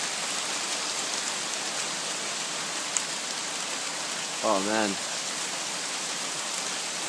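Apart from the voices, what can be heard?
rain after a hail storm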